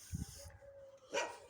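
A dog gives a couple of barks at a moderate distance, a low woof at the start and a sharper bark near the end, with faint background noise between.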